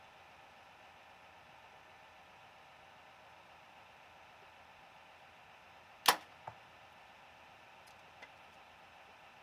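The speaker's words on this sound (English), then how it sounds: "I'm gonna throw 2 arrows through this thing." A single sharp shot from a Mathews compound bow snaps out over steady background hiss, followed by a faint knock and, a couple of seconds later, a soft distant thud.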